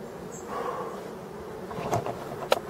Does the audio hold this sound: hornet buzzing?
yes